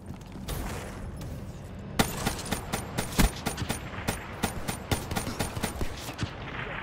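Rapid bursts of gunfire from the Shiva gun in a Gun Game match, starting with sparse shots and building into a dense run of sharp, loud reports, with no talk over them.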